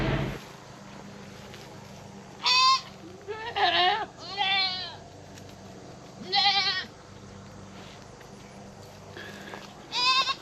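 A billy goat bleats several times at irregular intervals, loud, wavering cries close by over quiet outdoor farm background.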